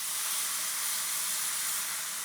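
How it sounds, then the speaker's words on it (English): Meat cooks in a hot pan, giving a steady, bright, hissing sizzle with a fine crackle that stays even and close throughout, with no voices. "The sizzle of cooking meat"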